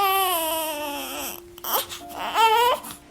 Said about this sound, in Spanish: unas personas que iban pasando por ahí escucharon el llanto de un bebé